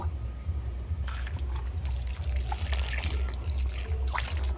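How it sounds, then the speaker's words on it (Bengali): Water pours onto the soil around a sapodilla tree just after fertilising, a steady trickle and splash that starts after a second and runs on close and moderately loud over a low background hum. "এবারে গাছে জল দিয়ে দেব"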